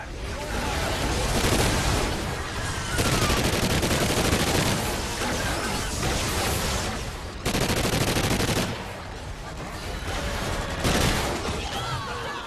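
Call of Duty Ghosts multiplayer gunfire: dense bursts of automatic weapon fire crackle loudly in long stretches with short lulls between, close and sustained, with a voice talking at times over the shooting.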